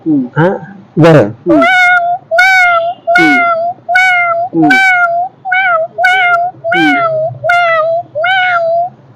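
A voice imitates a cat, giving a long series of about a dozen loud, evenly spaced meows, close up with brief pauses between them.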